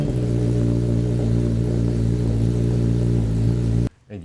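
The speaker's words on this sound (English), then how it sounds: "That was the first time this bike ever fired up with the SC Project CRT exhaust." Kawasaki ZX-10R motorcycle fitted with an SC Project CRT exhaust runs at a loud, steady idle with a deep, throbbing tone, close up, then cuts off abruptly near the end, leaving a brief quieter moment.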